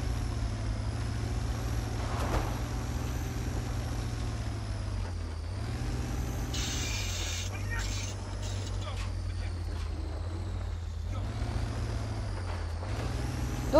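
The Tractozor, a monster-truck tractor with a rear crane and counterweight in a modded video game, drones with a steady low engine rumble whose pitch shifts as it drives, while someone talks over it.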